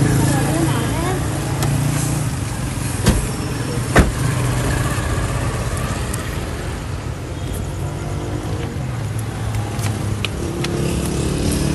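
A car driving along a road, heard from inside as a steady engine and road rumble with a couple of brief knocks, while voices talk over it.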